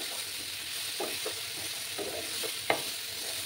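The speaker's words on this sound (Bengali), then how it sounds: "এবার আমি পেঁয়াজ কলিগুলো দিয়ে দেবো। দিয়ে ভালো করে মশলার সাথে কষিয়ে নিতে হবে।" Onion stalks being stir-fried with spice paste in a pan, a soft steady sizzle broken by several stirring scrapes and one sharper knock, fairly quiet and close.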